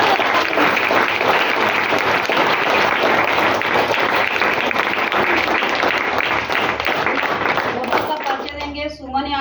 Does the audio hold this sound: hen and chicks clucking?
no